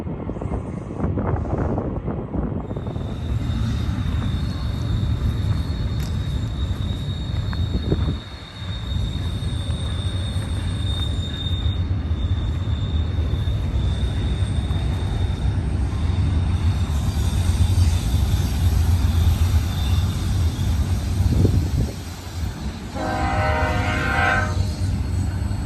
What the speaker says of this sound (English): There's the train down there.